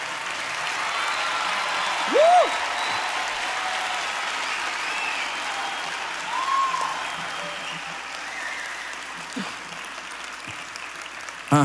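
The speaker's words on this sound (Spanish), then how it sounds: "Les quiero pedir un aplauso, por favor" Applause from a live concert audience in a theater hall, a broad steady wash of clapping throughout with brief whistles and cheers rising above it.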